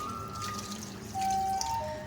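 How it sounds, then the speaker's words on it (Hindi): Water is poured over chenna in a kitchen to rinse it, making a soft, steady trickle and splash that stands alone at close range with no voices. "अब हम इसको पानी डाल के अच्छी तरह से धो लेंगे"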